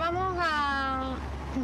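A captured cat, on its way to a veterinary clinic near the Bay of Cádiz, gives one long, close, wavering meow that trails off, then a short second cry.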